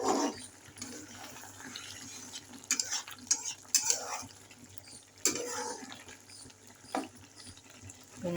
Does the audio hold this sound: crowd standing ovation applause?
no